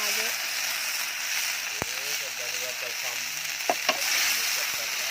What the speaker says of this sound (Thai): ผัดพริกแกงให้หอมก่อนนะครับ